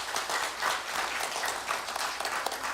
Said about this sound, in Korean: 먼저 박수로 환영하겠습니다.